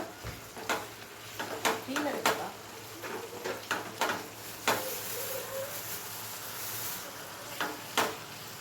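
Ground masala is stirred into mutton in a pan for Chettinad mutton chukka, with scattered scraping spoon strokes and soft sizzling while someone talks throughout.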